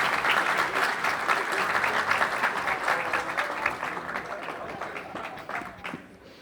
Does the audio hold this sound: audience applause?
yes